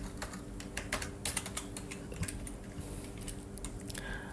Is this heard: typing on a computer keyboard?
yes